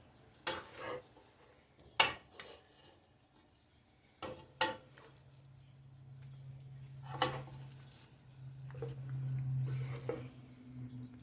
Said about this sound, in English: You're going to stir it up real good.